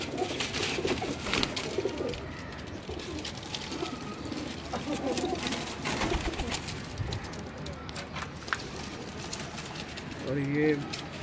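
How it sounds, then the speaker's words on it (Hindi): Rooftop pigeons in Lahore, including a wild pigeon, coo softly amid outdoor noise while people talk nearby, with a clearer burst of cooing near the end. "ये जंगली कबूतर है"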